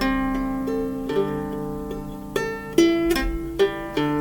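Plucked nylon-like guitalele strings ring out in single notes and chords, each sustaining long and decaying slowly, played alone and fairly close.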